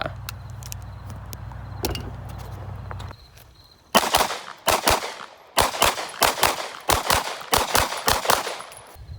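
Rapid bursts of handgun fire from a Glock 45 at an outdoor shooting range, a dense run of sharp loud shots in quick succession after a few seconds of low engine-like rumble and a brief lull.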